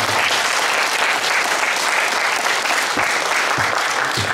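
Dense, steady applause from a large audience cheering an art troupe at a county community sharing festival in Hongseong, continuing evenly throughout with no pauses.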